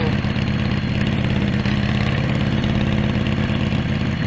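A custom Harley Davidson FL chopper with a 145 cubic inch V-twin rumbling loud and close, a steady throbbing, lumpy idle with no voices over it.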